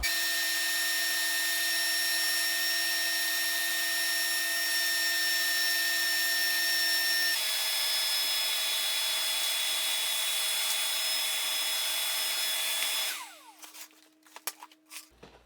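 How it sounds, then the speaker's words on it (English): Shop vacuum fitted with a Dustopper cyclone separator sucking up a pile of sawdust, a loud steady high-pitched whine running for about thirteen seconds before it shuts off and winds down, leaving scattered clicks and knocks. "we're going to pick up this pile of sawdust, and you should be able to actually see it cycloning in here"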